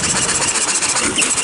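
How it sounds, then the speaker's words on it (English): A hit-and-miss engine with overhead valves drives ice cream churns, laboring as it loads up with added ice; its steady running drone carries continuously through the short stretch with no talk over it. "You hear it trying to load up, Jack?"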